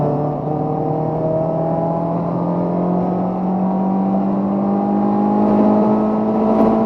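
A cammed Renault Clio 182 Trophy hot hatchback engine drones steadily as its pitch climbs slowly, revving higher and higher to redline, loud and close, with no talking.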